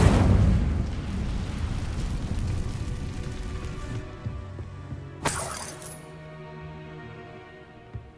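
An Incendio fire spell cast in Hogwarts Legacy: a loud crackling, shattering burst of flame that roars for several seconds and fades, then a sharp bright flare near the end before dying away.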